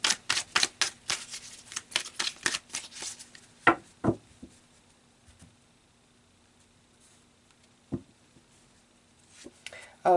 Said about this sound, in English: Let's pull more cards.